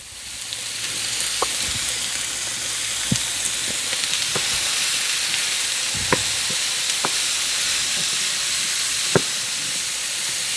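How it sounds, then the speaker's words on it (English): Ground meat sautés in olive oil and a little butter in a pan, giving a steady close hiss and sizzle with occasional sharp pops and light stirring scrapes, and no voices. "Get that sauteing going."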